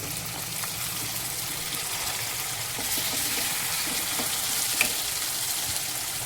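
Onion and tomato paste hits hot oil already holding cloves, cardamom and cinnamon. It fries with a steady, close sizzle that stays even throughout, with a faint clink near the end.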